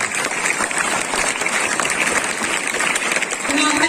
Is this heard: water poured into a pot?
no